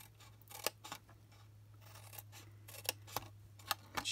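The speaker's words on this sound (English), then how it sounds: "So keep turning at 90 degrees and cutting up and tabbing it." Scissors cut paper for a stamped paper craft in a quiet run of repeated short snips with small pauses between them, close by and soft over a faint low hum.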